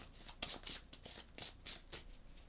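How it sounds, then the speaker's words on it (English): A deck of Marvel Champions cards being shuffled, a series of soft, crisp riffling bursts at a fairly steady rhythm, quiet and close with no talking. "We're going to shuffle."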